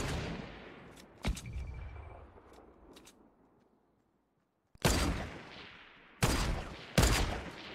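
Gunfire in Fortnite squad gameplay, including a new silenced pistol, arrives as several sharp reports: one shot early, a few faint pops, then three loud cracks near the end with short decays between them.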